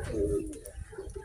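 A racing pigeon arriving at its loft gives a short, low, throaty coo, close and fairly soft, lasting about a second.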